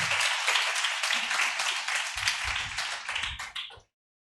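A congregation claps during a Sunday church worship service, a dense, steady patter of many hands that goes on for several seconds and then stops abruptly.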